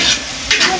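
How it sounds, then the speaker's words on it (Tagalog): Garlic and onion sautéing in a pan, a loud close sizzle with brief scraping stirs, lasting under a second with no voices. "Atin mo ng pula-pulahin ng bawang at sibuyas."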